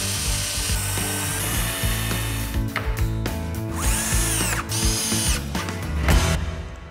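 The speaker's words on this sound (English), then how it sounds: "I'm going to pre-drill some holes there to then secure this to that" A power drill pre-drills holes in wood during a home repair, whirring loudly and close in sustained bursts with brief pitch swoops as it bites, rising and falling with no one talking.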